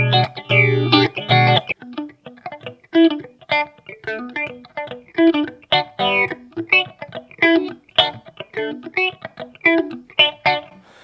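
Guitar through an Akai analog phase shifter pedal set to 360 degree depth, a deeper swirling sweep over a steady rate, with busy rhythmic picked and strummed phrases played close and loud for about eleven seconds.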